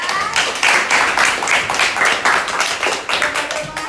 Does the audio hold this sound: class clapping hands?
yes